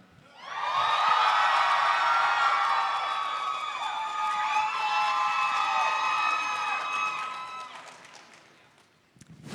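A convention panel audience cheers and whoops loudly for several seconds, a dense swell of shouting voices that fades out near the end.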